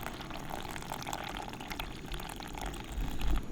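Liquid poured into a very full couscous pot sitting on a camp stove while cooking an elk and vegetable backcountry meal, a steady close splashing stream that swells a little louder near the end.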